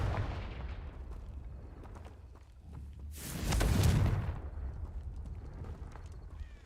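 The Confringo spell in a Hogwarts video game goes off in a single loud, booming blast midway through, with a rumbling rush that decays over a second amid low background game noise.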